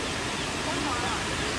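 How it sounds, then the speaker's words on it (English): The Huangguoshu waterfall in Guizhou gives off a constant broadband roar of falling water, heard close and unbroken throughout. "We're at the waterfall."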